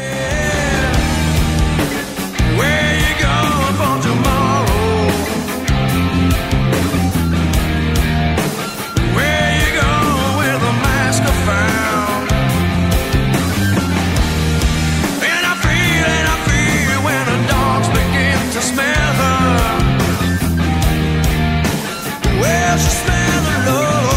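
Electric guitar playing the chorus of an alternative rock song, a loud, full, steady strummed part with sustained chords running continuously for about twenty-four seconds, no talking over it.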